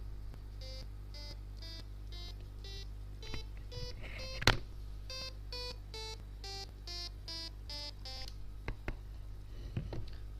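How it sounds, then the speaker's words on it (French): A series of short electronic beeps sounds in quick succession at varying pitches, like simple computer tones, with a few clicks in between. "vous avez vu comment utiliser le bip de Windows"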